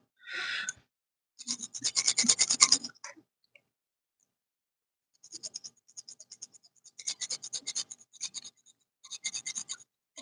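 Milwaukee pliers are ground down to mark the sharpening area, producing short bursts of harsh, gritty scraping that come in uneven strokes separated by silent pauses.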